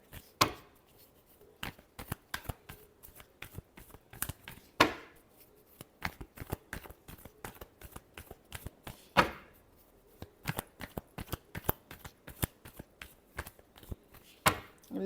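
Tarot cards are shuffled by hand nearby: a quick, uneven run of crisp taps and flicks, broken by a few sharper riffling bursts, soft overall with no speech.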